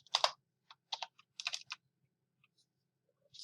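Quiet, close clicks of keys on a computer keyboard come in short bursts of typing, ending with a few isolated presses such as the enter key, with no talking.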